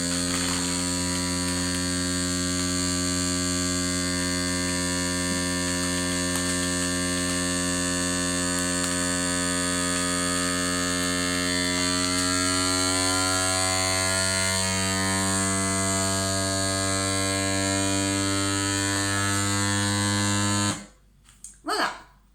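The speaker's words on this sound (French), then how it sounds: "j'appuie là-dessus et vous allez entendre un petit bruit qui sert justement à faire le vide d'air" A small vacuum sealer pump draws air out of a bag, a steady, close electric hum with a strong buzzing drone that holds for about twenty seconds before stopping abruptly.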